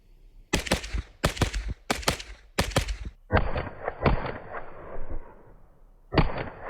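An APC9 Limited carbine with a muzzle device fires loud, close shots in quick pairs at 20 yards: several sharp paired bangs, then more shots with long ringing echoes.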